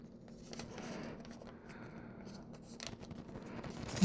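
Paper being folded into an origami person gives soft, close scraping and rustling as a crease is pressed and reverse-folded, quiet and without speech, ending in a slightly louder crinkle.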